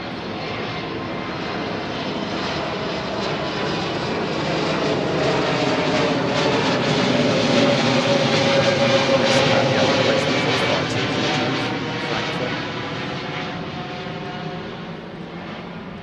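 A Lufthansa jet roars down Heathrow's runway 09R on departure, its loud engine noise building, peaking mid-way and then slowly fading as it climbs away.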